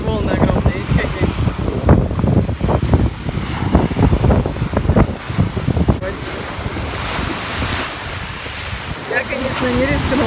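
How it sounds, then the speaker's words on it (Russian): Strong wind and large sea waves at a beach in Crimea, with surf crashing and rumbling continuously and heavy wind buffeting the microphone throughout, loud and close. "Ветрище сегодня и волны огромные"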